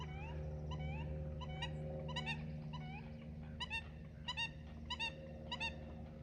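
American coots on Boronda Lake give repeated short, nasal, horn-like calls in quick clusters, some rising in pitch, over a low steady background hum. The calls come from close to mid distance.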